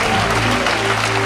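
A church audience at a family day service applauds and cheers loudly and continuously, a dense wash of clapping sustained throughout the short moment.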